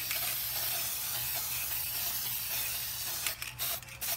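A steady, close aerosol spray of hydrodip activator hisses continuously, then breaks into a few short bursts near the end.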